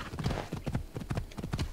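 Horse hooves clip-clop at an even trot in Assassin's Creed Odyssey, a regular rhythm of soft, close hoofbeats heard alone.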